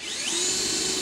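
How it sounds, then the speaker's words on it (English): A power drill with a very long bit bores through the bed of a 2000s GMC truck, its motor whining up to a steady high pitch and holding there loudly and up close, with no voices. "This is a really long drill bit."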